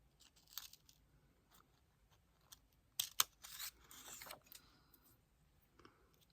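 Scissors snipping through a small paper label in a scrapbooking craft session, a few quiet, close cuts clustered in the middle amid soft rustling, with no talking.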